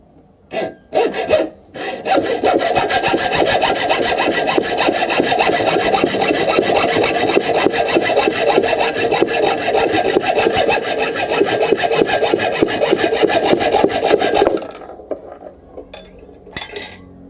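A hand saw cuts through a workpiece for a homemade fish spear, a steady rapid back-and-forth rasping that runs loudly for about twelve seconds before stopping, with a few short strokes at the start and end.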